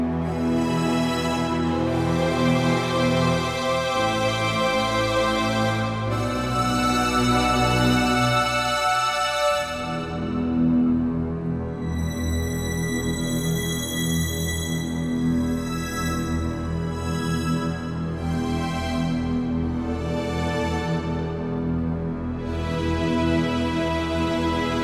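Four linked LUMI Keys Studio Edition keyboards play together, producing a thick, layered synth texture with full bass and shimmering highs, chords changing every few seconds across a continuous, loud passage with no talking.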